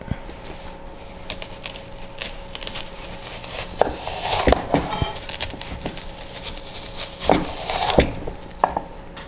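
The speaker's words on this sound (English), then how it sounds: "Just like so, and we are going to slice it." A knife slicing an onion on a board for an In-N-Out style Flying Dutchman burger, irregular cutting thuds and crisp knocks clustering midway and near the end over a faint steady hum.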